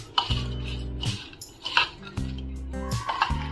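A spoon stirs papad koshimbir salad in a bowl, giving close, repeated clinks and scrapes against the bowl in an uneven rhythm, with soft rustling of the mix between strikes.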